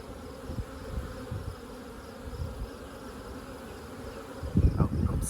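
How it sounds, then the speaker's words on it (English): Honey bees swarming in a hive give a dense, continuous buzzing hum with close, louder bursts of activity near the end, heard alone with no talk. "Ooh, it's a lot of bees."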